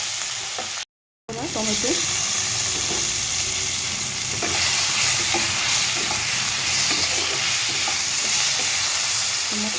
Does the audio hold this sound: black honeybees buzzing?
no